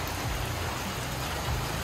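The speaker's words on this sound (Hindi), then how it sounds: "ये तो तेज़ ही हो जा रही है बारिश।" Heavy rain falls in a steady, dense hiss with a low rumble underneath, continuous and even, with no voices.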